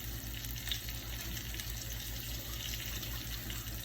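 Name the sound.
tap water running while rinsing a hand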